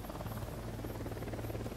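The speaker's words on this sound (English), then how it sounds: "There's the helicopter." Helicopter in the video game Ghost Recon Wildlands, a steady droning rotor hum held at a constant level throughout, with no voices.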